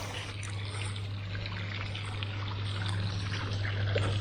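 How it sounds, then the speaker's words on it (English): Water trickles and splashes steadily in a park fountain at a country-town stop, a continuous near wash with a low hum underneath and no talk. "And this is a beautiful fountain."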